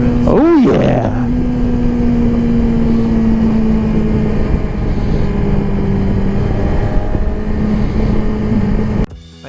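A 2017 Yamaha R6 sport motorcycle engine droning steadily while riding, loud and close with heavy wind rush, after a quick rev at the start, until it cuts off abruptly near the end.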